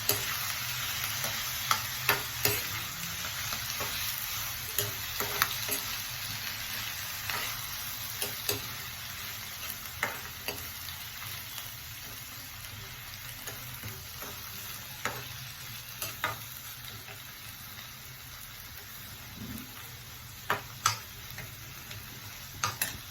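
Onions sautéing in a pan for a drumstick-leaf chutney, a low steady sizzle with soft scrapes and taps of a stirring spoon recurring throughout, close and fairly quiet with no voices.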